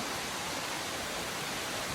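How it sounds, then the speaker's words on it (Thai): A forest waterfall during the hot season sends out a dense, steady broadband rush of falling water, loud and unbroken, with no voices over it. "ได้ยินเสียงน้ำไหมจ๊ะ"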